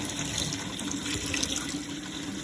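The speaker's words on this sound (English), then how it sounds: "I'm going to let this water run." Tap water runs steadily into a sink while chitterlings are cleaned in vinegar water, a continuous close splashing hiss with no talking.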